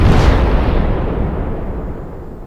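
A loud, deep bomb explosion used as a sound effect in an audiobook, with a heavy boom at the start that rumbles and slowly fades over a couple of seconds. No voice is heard.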